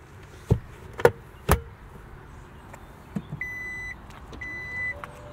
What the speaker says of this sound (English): Power tailgate is pretty quick in its operation too.